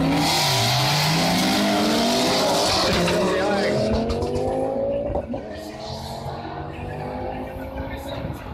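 A drag racing car roars past at close range at a drag racing nationals event, tires squealing as the engine note sweeps down, then fades to a lower rumble. A voice carries faintly underneath.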